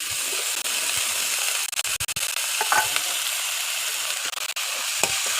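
Washed, cut bitter gourd frying in hot oil for a Bengali fry: a loud, dense, continuous sizzle close by, with scattered crackles and stirring clatter over it and no talking.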